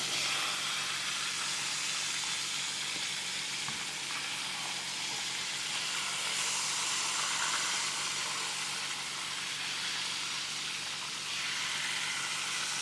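Whole whiting fillets frying in a pan of hot oil give a steady, dense sizzle and hiss that runs unbroken and fairly loud throughout, with no voices over it.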